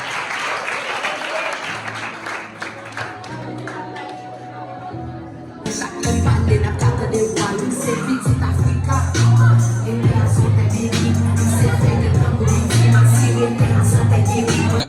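Audience applause at a Renaissance Academy event, dense clapping that swells and grows louder partway through, with music playing underneath and some crowd voices.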